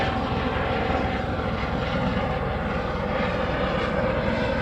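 An Asiana Airlines airliner's jet engines at an airport, a loud continuous broadband roar that holds steady throughout with no voices.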